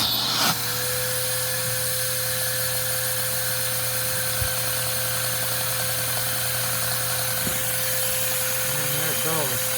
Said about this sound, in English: What you are now witnessing shall be the first run of this engine in, I'm guessing, 3 or 4 months.